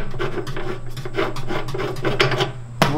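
Rasping, scraping metal-on-metal turns as a hand nut is unscrewed on a homemade honey extractor built from an old washing machine, a steady close grinding with a sharp clack near the end.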